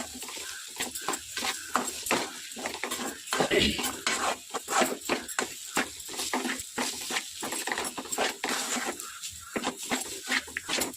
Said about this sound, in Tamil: கைவிடாமல் கலரிக்கினே இருக்கணும்